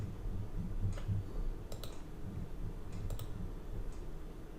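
Computer mouse buttons clicked on a Mac during software setup, a few pairs of light, close double clicks spaced apart over a low background hum.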